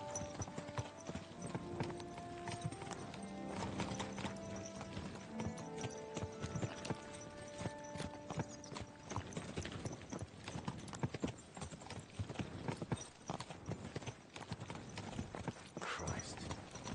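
Horse hooves clip-clop in a steady trotting rhythm in the video game Kingdom Come: Deliverance II, with a quiet background; the sound is clean and somewhat synthetic.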